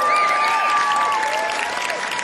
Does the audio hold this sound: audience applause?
yes